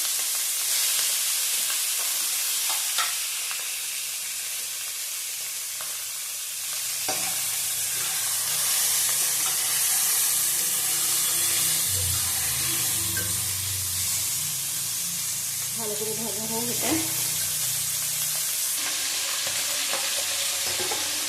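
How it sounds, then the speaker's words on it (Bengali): Oil sizzles and crackles steadily as bhetki (barramundi) fish bones fry in a pan, with occasional stirring scrapes and clinks, close and continuous. "ভেটকি মাছের কাটা দিয়ে দিলাম একসাথে সব ভেজে নেবো"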